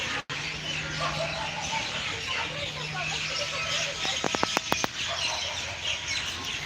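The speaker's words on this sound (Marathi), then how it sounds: "पक्ष्यांचा आवाज किती आहे ना खूप आहेत कावळे आहेत चिमण्या आहेत" Crows and sparrows call and chirp in the distance at Dhayreshwar temple in Dhayari, Pune, a busy mix of bird sounds, with a few sharp clicks partway through.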